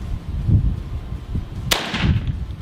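A single loud, sharp shotgun blast from a turkey gun loaded with Rogue number 9 tungsten through a Jeb's 650 choke, set against low outdoor rumble and faint murmur.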